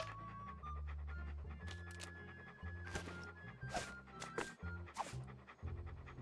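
A dog pants rapidly and steadily in Monkey Island 2: LeChuck's Revenge, the short breaths repeating over a tinkling game melody and low musical backing.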